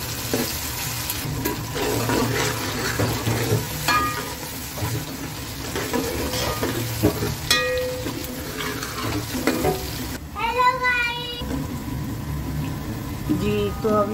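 Sliced onions frying in a pan until light brown, with a constant close sizzle and occasional stirring scrapes, while a person talks over it.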